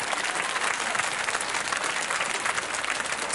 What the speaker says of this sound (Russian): Идите же сюда, под аплодисменты, конечно же, всего зала